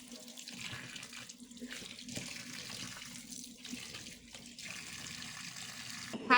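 Tap water runs steadily and splashes while sulfur-dyed fabric is rinsed, a soft, continuous faint gush that wavers briefly and never stops.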